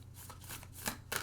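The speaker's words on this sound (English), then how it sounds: "And I'm going to shuffle and see if any of them fall out again." A deck of cards being shuffled by hand in a close, quiet room, with a few papery riffling bursts and soft slaps over just over a second, no voices.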